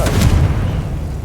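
Confringo fire spell blast cast in Hogwarts Legacy: a single loud, deep booming burst with a sharp crackling onset that rolls off into a low rumbling tail.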